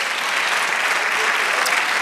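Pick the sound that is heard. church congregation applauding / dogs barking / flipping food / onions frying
church congregation applauding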